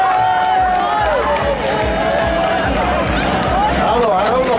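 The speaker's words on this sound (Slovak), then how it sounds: "Tak je s veľkým potleskom." Crowd at an outdoor tractor fun show cheering and clapping for a competitor, a lively roar of applause and shouts with a rhythmic thumping underneath, loud and close, mixed with an announcer talking over it.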